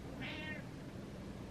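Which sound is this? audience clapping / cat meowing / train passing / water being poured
cat meowing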